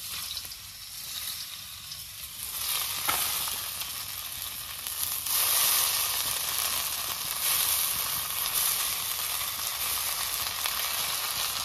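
Dal hits hot oil left over from frying pumpkin, and a loud, close hiss rises after a few seconds and stays dense and steady, with occasional stirring and no talk.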